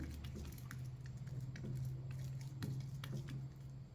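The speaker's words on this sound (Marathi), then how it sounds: "छोटे छोटे गोळ्या करून आपण आता थापून घेऊया" Hands pat methi thalipeeth dough flat on a wet cloth, giving soft, rapid, damp slaps and squishes up close over a low steady hum. No talking.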